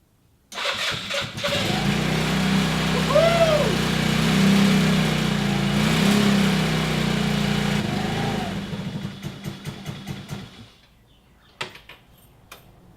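A car engine with an idling problem cranks and catches, then idles with a steady low rumble for several seconds before shutting off, leaving a few faint clicks.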